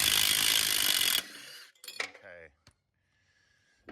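An impact gun hammers a nut off a riding mower deck spindle pulley in one loud, dense burst lasting about a second, then cuts off, followed by faint metallic clinks and rattles.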